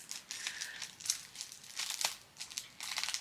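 A plastic handicap parking placard being handled, giving soft crinkling and crackling rustles in short irregular bursts, close and quiet.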